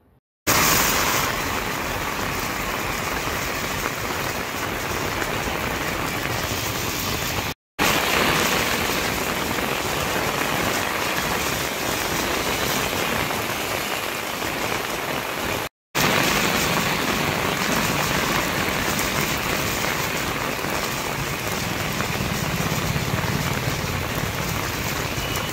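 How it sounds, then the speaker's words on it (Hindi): Steady, heavy rain falls on roads in Daman and Silvassa, a dense, even hiss that continues without a break apart from two very short cuts, with no voices. "लंबे समय के विराम के बाद बारिश होने से वातावरण में ठंडक फैल गई।"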